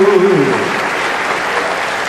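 A church congregation applauding in a continuous loud burst of clapping, with a voice briefly audible over it at the start.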